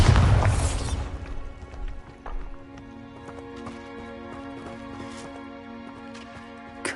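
A Bombarda spell explosion in the video game Hogwarts Legacy: a loud, brief booming blast at the start that quickly fades into a ringing, tonal game soundscape.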